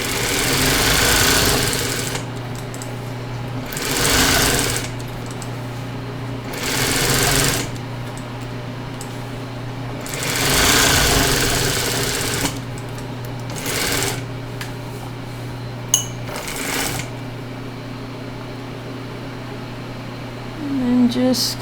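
A Singer 281-1 industrial sewing machine chain-stitches in production style, running in repeated loud whirring bursts of a couple of seconds with brief pauses between them. A steady motor hum sits underneath, and a voice talks over parts of it.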